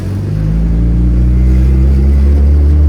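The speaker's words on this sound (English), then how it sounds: "I know it won't hold an idle when I clutch in, so I gotta be maintaining the throttle a little bit" A fully built, big-turbo Honda Civic engine is held on light throttle at the clutch, producing a loud, steady low drone that rises slightly and stays continuous, close to the microphone.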